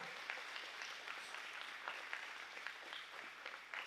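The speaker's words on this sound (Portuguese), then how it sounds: "Aplauda a palavra de Deus bem forte" Faint, distant applause from a church congregation during a praise and worship service, a few seconds of steady clapping heard low in the room.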